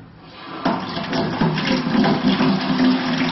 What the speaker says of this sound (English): run water into the bucket, a 5-gallon bucket